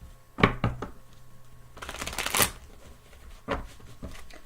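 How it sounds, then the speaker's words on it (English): A deck of tarot cards shuffled by hand, with soft slaps and taps followed by a longer papery riffle in the middle, close and fairly loud, with no talk over it. "I'm gonna shuffle it a couple times"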